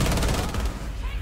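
Rapid gunfire in a tactical shooter video game, a dense close burst of shots that trails off within a second.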